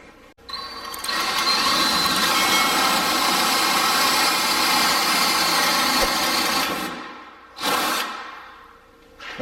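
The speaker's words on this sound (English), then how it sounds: "this will actually go down and drill a hole" Power drill boring through a wooden floating shelf to pass LED cables, a loud steady whine with grinding running for about seven seconds, then stopping, with one brief burst near the end.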